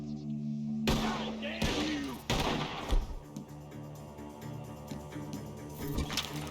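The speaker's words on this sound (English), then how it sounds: "The gunshots are coming from that barn!" Several loud, sharp gunshots in Red Dead Redemption 2 crack close by near a barn, some in quick bursts, over game ambience and music.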